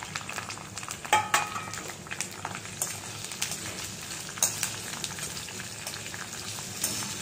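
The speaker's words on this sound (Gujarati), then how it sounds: "હવે આમાં જ આપણે કેપ્સિકમ શેલો ફ્રાય કરી દઈશું." Capsicum shallow frying in oil over a medium flame for a Gujarati onion and capsicum curry, a dense continuous crackling sizzle with scattered spattering pops and an occasional utensil clink, close up and without speech.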